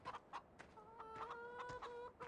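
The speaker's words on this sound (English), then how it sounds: "There's the rooster." Chickens and a rooster cluck in a Farming Simulator 15 game on PS4, a run of short, close clucks and one sustained tonal call over a steady low background.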